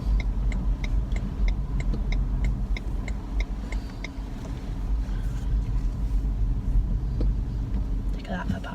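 Electric car pulling into a visitors' car park: a low, steady cabin rumble with a regular ticking early on, under people talking.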